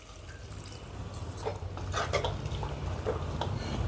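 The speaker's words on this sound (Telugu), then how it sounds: "ఇప్పుడు ఇందులో ఒక two hundred ML water add చేసుకుందాం" About 200 ml of water pours steadily into a cooking pot of vegetable curry for a few seconds, a close, continuous gushing that builds slightly, with no one speaking.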